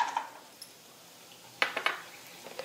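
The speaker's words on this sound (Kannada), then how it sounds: "ಈಗ ನಾನು ಗೋಡಂಬಿ ತೊಗೊಂಡೇನೆ 1 ಮುಕ್ಕಾಲು ಕಪ್ನಷ್ಟು, ಅವು ಹಾಕೋತೀನಿ ನೋಡ್ರಿ" Cashews tipped into ghee in a pan for antina unde, landing as a couple of sharp clinking bursts midway, then scattered light taps and rattles against the metal; no voices.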